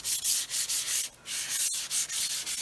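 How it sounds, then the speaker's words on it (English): Wet sanding a yellowed, dull car headlight by hand with 1500 grit sandpaper, a close, rhythmic back-and-forth rasping scrub repeated in quick strokes with one brief pause midway. "What you want to do is basically just sand out the yellow and the dullness."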